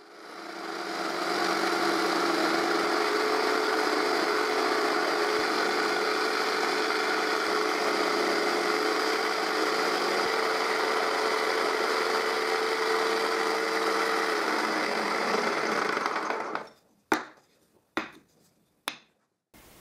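A power tool cuts circles from wood in one sustained, loud, steady run of about fifteen seconds, with a high whine over it, then stops and is followed by a few sharp knocks.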